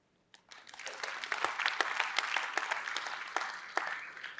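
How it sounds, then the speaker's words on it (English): A room full of people at a conference talk claps steadily for a few seconds, a dense burst of applause that starts abruptly and holds at an even level. "Just by round of applause"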